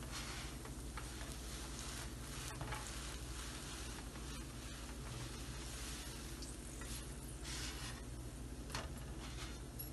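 Bun kebab patties frying in shallow oil, a steady dense sizzle that holds unbroken for the whole stretch, close and even, with no voices over it.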